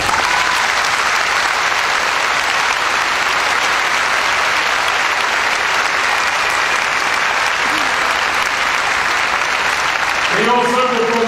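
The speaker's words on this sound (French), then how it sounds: "je crois que la meilleure façon, c'est d'applaudir" Sustained audience applause fills a circus tent during an awards tribute, a dense steady roar of many hands with crowd murmur, ending with a brief voice rising near the end.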